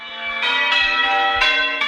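Church bells in West Yorkshire pealing at Christmas, several ringing strikes overlapping into a sustained, resonant chime with no talking.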